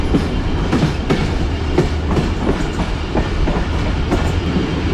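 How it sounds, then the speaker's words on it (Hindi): The Allama Iqbal Express picks up speed after a station in Pakistan, wheels clicking steadily over rail joints under a loud continuous rumble heard from inside the train, with no voices. "और पीएलसी लेने के बाद दोबारा से एक्सीलरेट करना शुरू किया है ट्रेन ने।"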